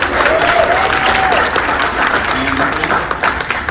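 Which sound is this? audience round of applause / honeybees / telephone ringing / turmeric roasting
audience round of applause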